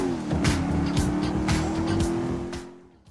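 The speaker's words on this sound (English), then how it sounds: "Engine sounds are quite throaty" A throaty car engine roars through city streets in a video game, revving steadily with repeated tire squeals and skids over about three seconds before fading slightly at the end.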